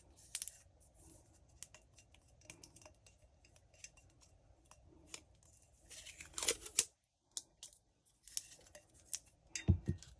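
Scissors snip short pieces of heat-resistant tape for a personalized mug, a series of close, crisp cuts and crinkling tape sounds with brief pauses between snips.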